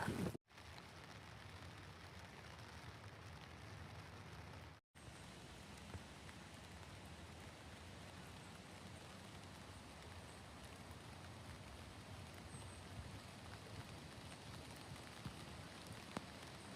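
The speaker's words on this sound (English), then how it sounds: "It is really raining" Steady rain falling along a Pacific Crest Trail hiking route near farms and timber roads, a soft continuous hiss with no voices over it.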